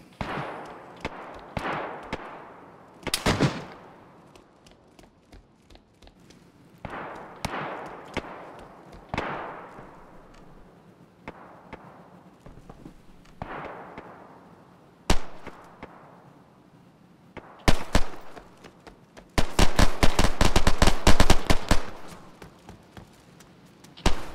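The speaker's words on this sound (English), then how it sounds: "I managed to shoot somebody" Gunfire in the video game DayZ comes as sharp single shots spaced irregularly, each with a ringing decay. Near the end a rapid burst of fire follows, loud and close.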